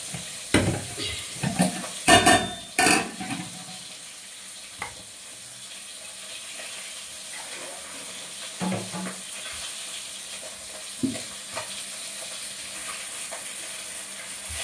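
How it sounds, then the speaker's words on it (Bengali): Fish fries in a pan with a soft continuous sizzle, punctuated early by several loud clattering knocks and later by a few scattered utensil clinks. "সবগুলো মাছ ভেজে নিয়েছি"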